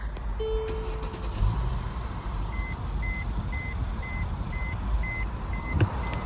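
A 2015 Mercedes-Benz E400 Cabriolet's engine rumbles steadily inside the cabin while a high electronic chime repeats at an even pace above it.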